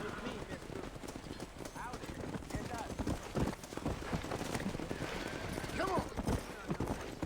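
Horse hooves clip-clop at a steady trot in Red Dead Redemption, with busy game sounds and someone talking over them throughout.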